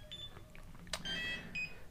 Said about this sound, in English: this is just your alarm tone. There's the high tone, the medium, and the low.